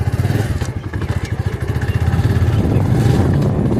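A motorcycle being ridden, its engine giving a steady low putter with rapid pulsing that builds slightly louder toward the end, close by and continuous with no talk.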